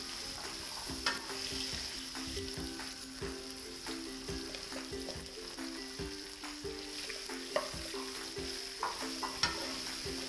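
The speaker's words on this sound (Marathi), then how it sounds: "याला आपण छान परतून घेऊया" Diced red pumpkin pieces fry and sizzle steadily in a pan, with spoon scrapes and stirring knocks recurring throughout, close and continuous, with no voices.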